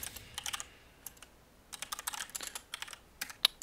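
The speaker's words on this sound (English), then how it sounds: "Oops, I keep typing squad." Quick bursts of clicky keystrokes on a computer keyboard, irregular clusters of taps with short pauses between, close and crisp with no talking over them.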